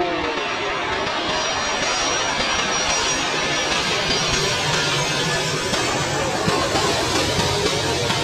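A large airliner passes overhead at Sanya Phoenix Airport, its jet engines producing a loud, steady, broadband roar that fills the entire stretch without letup.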